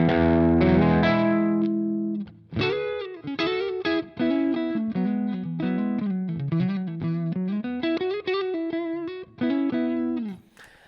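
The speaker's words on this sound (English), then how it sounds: "here is what the guitar sounds like straight into the amp," A Stratocaster electric guitar with single-coil pickups plugged straight into an amp with no pedals, playing a ringing chord and then a busy run of picked single-note phrases, fairly loud and close, with no talking.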